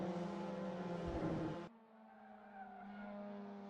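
A front-wheel-drive TCR race car in a racing sim, its tyres skidding and squealing under a loud engine note that cuts off abruptly, followed by a quieter engine hum.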